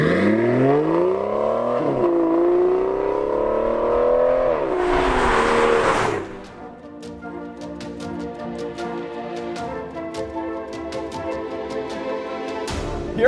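An Aston Martin Vanquish V12 pulls away on the road with rising revs and gear changes, then settles into a steady engine drone and road roar with sharp ticks, loud and close, with no talk.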